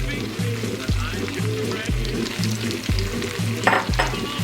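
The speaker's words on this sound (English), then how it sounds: "Sweat the vegetables." Chopped onion, garlic and jalapeno frying in rendered bacon fat: a steady, close sizzle and crackle with a rhythmic low thumping underneath throughout.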